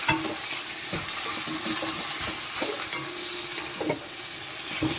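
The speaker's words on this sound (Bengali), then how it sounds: "দিয়ে একটু ভালো করে ভেজে নেব।" Bottle gourd leaves frying with already fried shrimp in a pan give a loud continuous sizzle, broken by repeated scraping and clinking as the mix is stirred with tongs.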